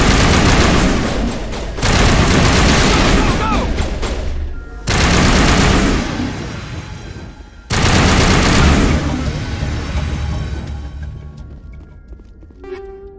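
Heavy gunfire in the game Mass Effect, three loud sustained bursts of rapid automatic shots separated by brief pauses, trailing off into quieter scattered shots.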